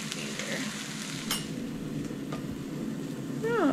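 Onions sizzle and fry in a pan with a steady crackling hiss, close and constant, with a brief clink of utensils and a short squeaky sound at the very end.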